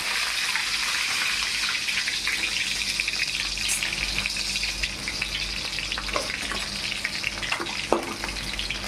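Green chillies frying in hot oil, a loud, dense, continuous sizzle with a few scattered stirring knocks, close up and with no talking.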